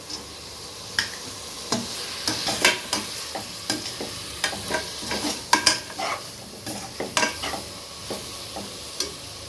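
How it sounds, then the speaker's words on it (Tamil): Tomato and ginger garlic paste sizzle in a pan for a mutton and brinjal curry, while a spoon scrapes and clinks against the metal in quick, uneven strokes over a steady frying hiss. "தக்காளி, இஞ்சி பூண்டு பேஸ்ட்லாம் போட்டு நல்லா கொஞ்சம் நேரம் கலரி விடணும்."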